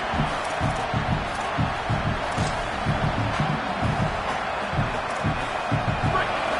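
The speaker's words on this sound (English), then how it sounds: "The roar of the crowd trying to fuel this defense to keep them pinned in their own end" Football crowd roaring in a stadium during a Rockets vs Lions game, a broad, sustained wall of crowd noise with rhythmic pulses underneath, holding steady throughout.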